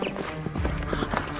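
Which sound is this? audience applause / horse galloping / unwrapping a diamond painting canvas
horse galloping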